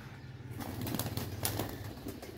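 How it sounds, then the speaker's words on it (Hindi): A domestic pigeon released and flying off, heard as a faint burst of wing flapping and fluttering lasting about two seconds, with no talking. "पहले दिन ही खोल के छोड़ा, और ये उड़ के गया"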